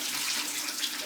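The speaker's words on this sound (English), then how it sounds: "we'll give it a quick wash with some soap and water and stuff" A tap runs steadily for a quick wash with soap, giving a continuous, fairly close hiss of water with no talk.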